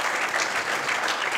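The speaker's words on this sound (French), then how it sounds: "On peut l'applaudir une fois encore" An audience at an e-health awards ceremony claps steadily, a dense, fairly close wash of many hands that holds at an even level without cheering.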